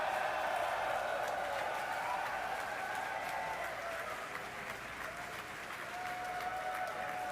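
A crowd of colleagues outside SpaceX mission control in Hawthorne, California, applauds and cheers in a sustained, dense burst of clapping that stays fairly even throughout.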